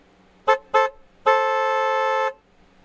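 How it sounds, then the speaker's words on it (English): Car horns honk from fans parked along Saskatchewan Drive near a Winnipeg Blue Bombers versus Saskatchewan Roughriders preseason game: two short toots, then one long sustained blast of about a second, fairly distant, with no talk. "if you think Jack Cohn is going to be on the Rider roster and did enough to earn a job tonight, honk your horn"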